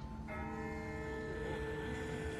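A single distant bell tolls once in The Walking Dead video game, its ringing tone hanging and slowly fading over a low ambient rumble.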